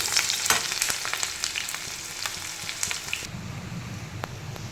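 Vegetables sizzle and crackle in a hot pan over fried onion and garlic, loud and close at first, with stirring sounds, then the frying drops to a softer hiss.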